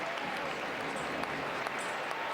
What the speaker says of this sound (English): the crowd applauds Caprice Didasco